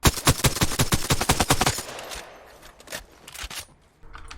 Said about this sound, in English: If you just tap fire, it's a lot better.